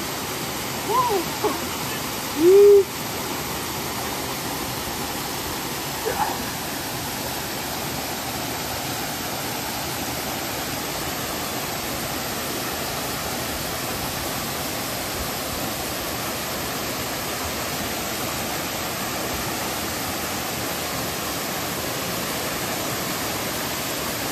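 A waterfall at Akchour, Morocco, roars as a dense, steady rush of falling water, loud and unbroken throughout, with a couple of brief faint sounds near the start.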